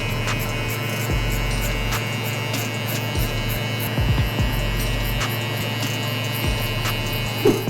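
Electric hair clippers fitted with a 1 guard blending a drop fade haircut, a steady close buzzing hum with brief snips and shifts as the blade moves over hair, no talking.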